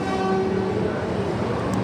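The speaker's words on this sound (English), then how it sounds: "There's a Siemens arriving into platform 14 going towards Williamstown or Werribee" A Siemens electric train pulls into a platform at a busy city station, giving a steady rumbling drone with faint tonal hum under it throughout, fairly loud and close.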